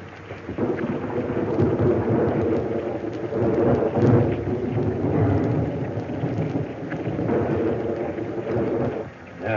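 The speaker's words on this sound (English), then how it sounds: "What a storm." A thunderstorm in a 1935 black-and-white Western film soundtrack: steady heavy rain under rolling, rumbling thunder that swells and recedes several times, loud and close throughout, with no speech over it.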